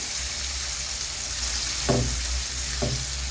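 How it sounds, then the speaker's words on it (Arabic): Onions sauté in a little oil in a pan, a steady soft hiss of frying with two brief louder stirring scrapes near the end, close and with no speech. "نزلناها بشوية الزيت، هننزل بالبصل، تشويحة"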